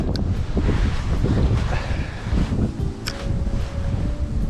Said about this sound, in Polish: Ten wiatr jest bardzo porywisty